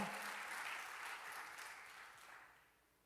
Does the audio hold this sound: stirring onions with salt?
no